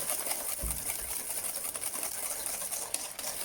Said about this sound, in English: And then I'm going to use my whisk.